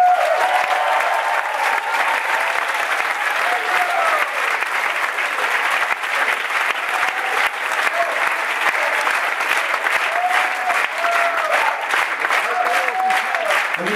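Audience at an international circus festival giving sustained applause, a dense even roar of clapping with scattered cheers and voices rising through it, steady for the whole stretch.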